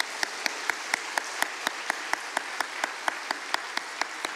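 A church congregation at a Korean worship service claps in a steady, evenly spaced rhythm, each sharp clap distinct and fairly faint against the quiet room.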